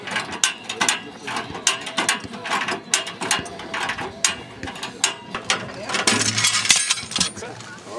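A Hi-Lift jack is ratcheted down on a Toyota Hilux during a 4x4 recovery, with loud rhythmic metallic clacks and clunks repeating steadily at close range and a heavier clank near the end.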